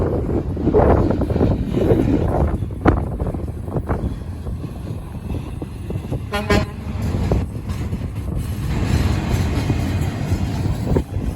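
A CSX freight train rumbles past at a railroad crossing, with a continuous heavy roar of rolling cars and a brief horn toot in the middle, all under windy outdoor noise.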